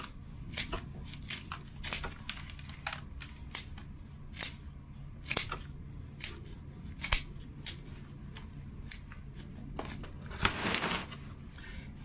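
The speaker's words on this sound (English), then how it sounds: "These are actually my root cutting scissors" Sharp scissor snips trim the roots of a Japanese maple during repotting, a steady run of crisp, separate cuts at an uneven rhythm, close by, with soft rustling of soil and roots between them.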